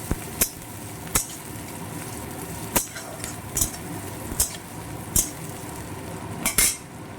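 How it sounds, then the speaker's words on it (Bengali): Slit green chillies and chopped onion frying in hot oil, with a soft sizzle beneath repeated sharp clinks of a metal spatula stirring against the pan at an irregular pace. "এবার আমি তেলের মধ্যে এই যে কাঁচা লঙ্কা চেরা আর পেঁয়াজ কুচি দিয়ে দিচ্ছি পেঁয়াজটা কিছুক্ষণ এইভাবে নাড়িয়ে চাড়িয়ে ভাজবো"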